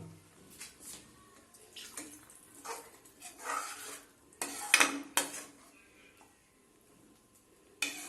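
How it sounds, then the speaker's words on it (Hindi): Water is poured into a pan of paneer butter masala in a home kitchen, with splashing and sloshing bursts mixed with clinks of utensils against the pan, loudest near the middle and then settling down. "अब इसमें थोड़ा सा पानी हम और मिलाएंगे।"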